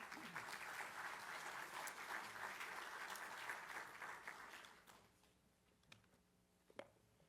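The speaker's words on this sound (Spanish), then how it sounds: "Volvamos a dar un fuerte aplauso" Lecture audience applauding after a talk on evidentiary principles in legal proceedings, dense clapping for about five seconds, then fading to a few isolated claps in a quiet hall.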